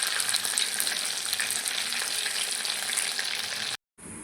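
Chicken satay pieces frying in oil, a loud, continuous crackling sizzle that cuts out abruptly near the end, then resumes more quietly after a brief silence.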